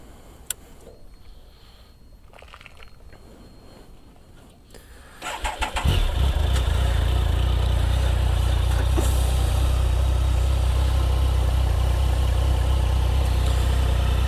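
A 2011 Triumph Sprint GT with its 1050 cc three-cylinder engine cranks over and fires up after a few quiet seconds, then settles into a loud, steady close-up idle that runs to the end.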